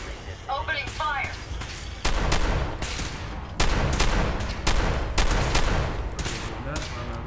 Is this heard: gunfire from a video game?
yes